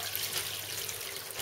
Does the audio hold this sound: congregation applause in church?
no